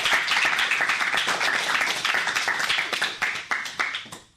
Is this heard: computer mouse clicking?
no